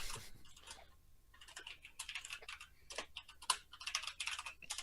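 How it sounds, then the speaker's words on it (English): Furious typing on a mechanical keyboard: rapid, clicky clusters of keystrokes in uneven bursts with brief pauses, close and fairly quiet, no talking. "Furiously typing on his mechanical keyboard"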